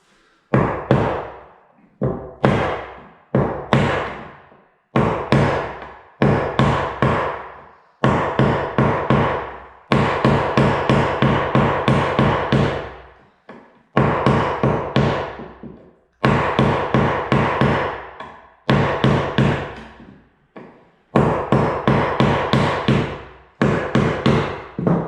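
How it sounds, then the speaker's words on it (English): A hammer drives nails down into chipboard flooring in loud, close bursts of rapid strikes, each run of blows separated by short pauses, with no talking. "another thing you can do is knock the nails"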